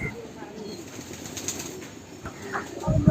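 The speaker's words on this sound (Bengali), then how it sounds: "তার মা বাচ্চাগুলোকে প্রায় এক ঘন্টা যাবৎ খাওয়াচ্ছে" A mother pigeon feeds her five-day-old chicks in the nest, with soft rustling and wing flutters, faint squeaks and low background noise that thickens toward the end.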